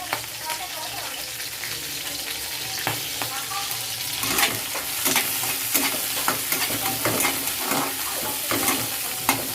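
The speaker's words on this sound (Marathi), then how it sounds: "आणि मस्त आपल्याला भाजून घ्यायचं मिरच्या मस्त आपलं अद्रक आणि मिरची छान झालेलं आहे" Green chillies and ginger fry and get stirred in a pan for a peanut chilli thecha, with a steady close sizzle broken by repeated scraping and stirring clatter that grows busier halfway through.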